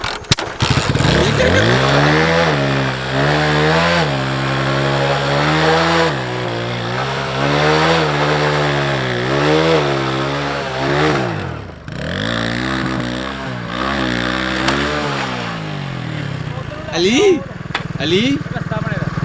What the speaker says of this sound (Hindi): अली भाई की बाइक दे गई है जवाब कि अब और नहीं चलूँगी मैं